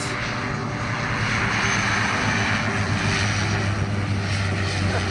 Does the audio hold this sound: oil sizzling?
no